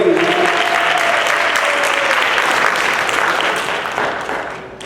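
A room full of people claps loudly and steadily, a sustained round of applause that holds strong, then thins and fades toward the end, with a faint voice briefly audible early on.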